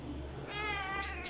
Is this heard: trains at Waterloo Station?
no